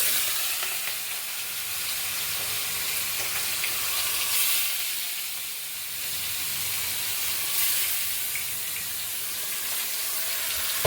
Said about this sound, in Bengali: মাছগুলো একটু লাল লাল করে আগে ভেজে নেবো।